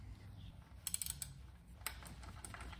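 A ratchet with a 10 mm Allen socket loosens the manual transmission fill plug on a Volkswagen Golf R MK6, a short run of quick soft clicks that comes through faintly and close, then a second brief burst.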